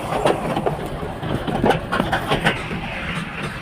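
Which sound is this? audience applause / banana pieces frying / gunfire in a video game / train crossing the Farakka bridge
train crossing the Farakka bridge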